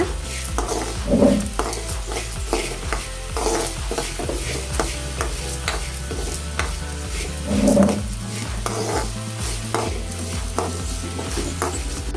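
Bitter gourd and chillies are dry roasted in a pan with no oil, stirred continuously with scraping and clinking and a soft sizzle throughout, loud and close with no voices.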